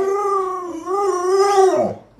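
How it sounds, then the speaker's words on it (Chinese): A newborn puppy gives one drawn-out, high whimpering cry that wavers and bends before it trails off, loud and close. "洛洛多漂亮，这小狗多丑。"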